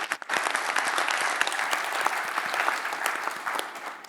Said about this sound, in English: I think we should also give a special round of applause for all the security people that made the visit possible yesterday.